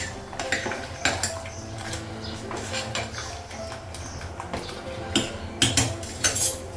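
A wok set on a stove and oil poured in before frying fish, heard as repeated close metallic clanks and scrapes of pots and utensils with uneven rhythm throughout.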